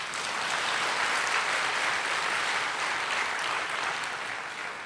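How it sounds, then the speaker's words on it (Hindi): An audience at a spiritual talk clapping together in a dense, sustained burst of applause that stays loud and fills the hall throughout, easing slightly toward the end. "तालियां तो बजाओ जरा।"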